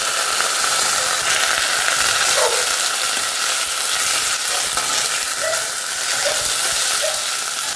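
Meat and vegetables frying in a pan with only a little oil, a steady close sizzle and hiss with occasional stirring scrapes throughout.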